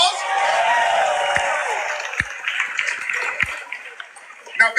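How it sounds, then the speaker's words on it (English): An audience at an open panel discussion breaks into applause and cheering, a dense, hissing roar of many hands and voices that starts loud, then thins and fades with scattered sharper claps near the end. "Give yourselves a round of applause."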